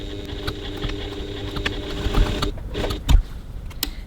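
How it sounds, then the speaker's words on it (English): A sewing machine top-stitches the sides and bottom of a handbag window opening, its motor whirring in a steady run that pauses briefly near the end, with a few light clicks. "So now we're going to top stitch the sides and bottom of our window opening"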